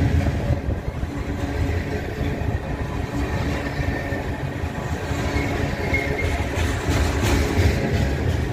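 A train rolls steadily past, and one of its cars has a wheel flat spot. Loud continuous wheel and rail rumble builds slightly toward the end with faint rhythmic clatter, and no voices.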